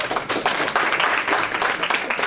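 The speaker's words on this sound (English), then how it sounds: "Please clap for her." At a university debate event, an audience claps for a guest being introduced, a dense patter of many hands at moderate loudness, quite close.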